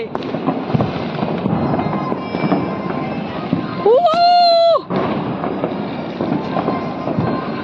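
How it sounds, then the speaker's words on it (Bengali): New Year's Eve fireworks at a heritage festival in Serampore, a dense, continuous crackle of bursts all around, loud and close, with a rising whistling tone cutting through briefly midway. "চারদিকে চারদিকে শুধু বাজি ফাটছে"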